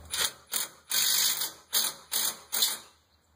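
An impact driver with a star bit tightens a bolt on a wrought iron gate pole, firing six sharp hammering bursts in quick succession, close and loud with no talking.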